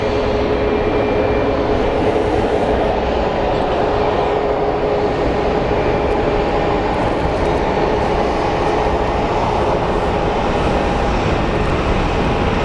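A Southwest airliner taxiing past at Phoenix Sky Harbor, a loud steady jet engine roar with a faint high whine, holding constant throughout with no voices.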